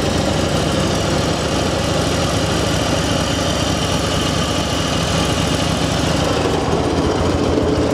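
Harley Davidson Road King FLHR motorcycle engine idling nearby, loud and steady with a rough, pulsing vibration, its throttle lightly feathered to keep it running.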